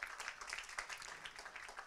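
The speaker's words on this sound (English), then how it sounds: "Round of applause for her." Applause from an audience at a business awards event in Petaling Jaya, Malaysia, honouring a retail brand winner; a faint, even patter of many hands clapping continues throughout at a distance.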